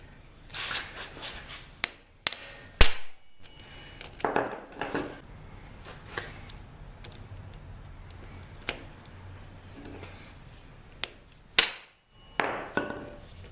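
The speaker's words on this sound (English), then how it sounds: "I figure our best bet would just be to go ahead and use the impact screwdriver." An impact screwdriver struck with a hammer on a 1972 Honda CB450 barn-find motorcycle in a workshop: sharp, isolated metallic blows spaced irregularly, with quieter scraping and handling sounds between them.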